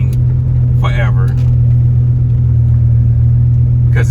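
A Dodge Viper's engine rumbles steadily from inside the car while driving, a loud low drone that continues throughout with a brief voice over it near the start.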